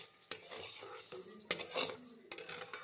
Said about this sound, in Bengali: এই ধুয়ে শুকিয়ে রাখা গোবিন্দভোগ চালগুলো এই কড়ার ভেতরে দিয়ে দেব। দিয়ে খুব ভালো করে এটাকে বেশ ভাজা ভাজা করে নেব।